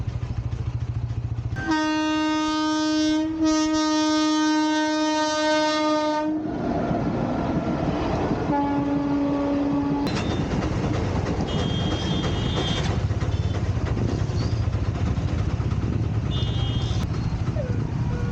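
A train passes close by at a railway crossing in Gujarat, India, with loud, sustained horn blasts, followed by rumbling wheels and rhythmic clatter continuing steadily to the end.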